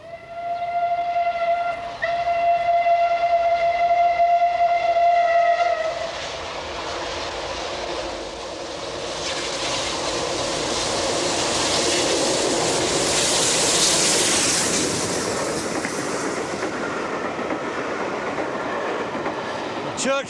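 Steam locomotive Clan Line running on a railway, opening with a long sustained whistle tone, then a rushing, rumbling passage of the train that builds and slowly fades, with no speech.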